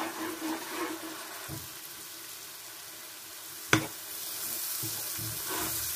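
Rohu fish coated in salt, turmeric, spices and garlic paste fries in a pan while being stirred; a soft, continuous sizzle is broken by occasional scrapes and one sharp knock of the spoon, with no talking.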